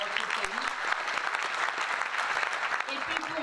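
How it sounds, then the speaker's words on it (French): A crowd at a Marseille town hall New Year's greetings event for the 1st and 7th arrondissements applauds steadily, the clapping continuous and fairly close with a voice audible over it. "on peut l'applaudir aussi pour qu'elle la retrouve"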